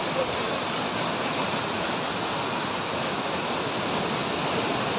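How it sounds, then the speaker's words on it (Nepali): A river rushes through a Himalayan gorge at Sangjen, a dense, steady roar of churning water that stays loud and unbroken throughout, with no voices over it. "खोला भने यो भित्रबाट जाँदो रहेछ"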